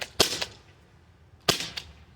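A Byrna HD less-lethal launcher fires shots up close: a sharp crack, then another about a quarter second later, and after a pause a second pair of cracks, each one loud and snappy with short decay.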